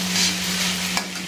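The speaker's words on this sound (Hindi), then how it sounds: "अभी तो बस मैं फ्राई कर दूँ ये चावल" Rice frying in a pan while being stirred, giving a steady close sizzle with a soft scrape near the end, heard alone without talk.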